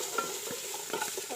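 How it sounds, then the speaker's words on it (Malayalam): Onions for a chicken curry sauté in a pan, a steady broadband sizzle with a few soft stirring scrapes scattered through, close and moderately quiet, no voices. "ഉള്ളി നന്നായിട്ടൊന്ന് വഴണ്ട് വരണം."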